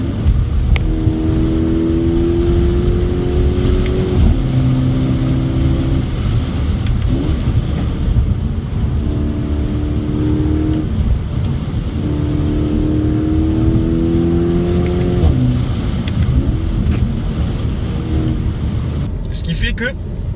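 A Skoda Octavia RS 230 engine revs hard during an onboard drive, its rising harmonic whine climbing repeatedly over a steady road and cabin roar, with a voice talking over it.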